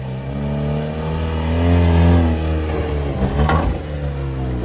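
A Tata Nano's engine revs hard as the small car climbs a steep off-road slope: a loud, close, steady drone that swells and strains near the middle before easing slightly, with no voices.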